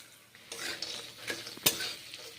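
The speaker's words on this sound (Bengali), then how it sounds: "তা বড়ি ভাজাগুলো এখন দিয়েছি ডাটা চচ্চড়িতে এইভাবে চচ্চড়ি রান্না করে নিচ্ছি" A spatula stirs cauliflower stalk chorchori with fried lentil bori in a pan, giving soft scrapes and a light sizzle with a few sharper clinks, quiet and close with no speech.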